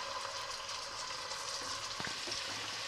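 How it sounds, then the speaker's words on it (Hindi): Chicken pieces fry in oil over a medium flame for a Kashmiri chicken masala, giving a soft, steady sizzle with a few brief clinks and stirring sounds near the end, no talking. "हम इसमें चिकन को थोड़ी देर के लिए अच्छे से भून लेंगे, जब तक चिकन पर गोल्डन ब्राउन कलर ना आ जाए।"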